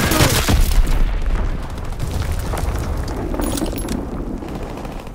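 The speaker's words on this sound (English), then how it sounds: "Dropping Fritz X-bomb." A Fritz X bomb detonating in Call of Duty WWII multiplayer: a heavy, loud boom right at the start that rolls into a long rumbling, crackling decay, with faint game chatter in the mix.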